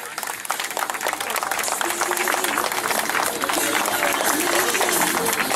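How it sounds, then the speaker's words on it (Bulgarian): At a motor race award ceremony, a large outdoor crowd applauds a third-place finisher in the X3 class, dense, steady clapping filling the whole stretch with crowd noise mixed in. "на трето място в X3 вашите аплодисменти за Йордан Миларов от Ара Мотоспорт"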